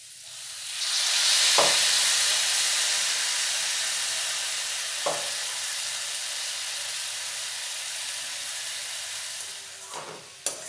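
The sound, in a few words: chowmein being stir-fried with vegetables in a pan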